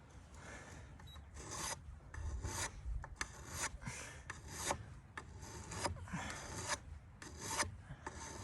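A file rasps in repeated strokes across the blade of steel hoof nippers held in a vise, each stroke a short gritty scrape separated by brief pauses, fairly quiet and close.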